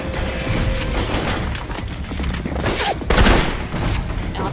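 Gunfire in the Alpha Protocol video game on PC, a continuous fusillade of shots with a louder blast late on, no voices over it.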